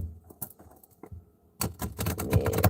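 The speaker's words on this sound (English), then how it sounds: "Let's shuffle a little better." A deck of tarot cards is shuffled: first a few scattered light clicks, then a dense, rapid rattling riffle that stays fairly close and clear.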